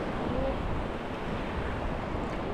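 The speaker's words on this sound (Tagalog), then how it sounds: "Ayos lang bang alon sa'yo, Nuno?" Broad, steady rush of ocean surf with heavy wind buffeting the microphone, continuous and close, no distinct wave breaks standing out.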